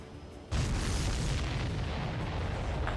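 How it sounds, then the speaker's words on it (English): A sudden loud explosion in the Ace Combat 7 combat flight game bursts in after half a second of quiet, then rolls on as a sustained heavy rumble. "Did you see that explosion?"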